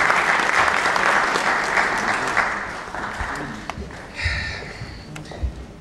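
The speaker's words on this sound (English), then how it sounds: "Acclaim, applaud her, please." An audience at a formal program applauds a speaker. The dense clapping fades gradually into scattered claps and light crowd noise.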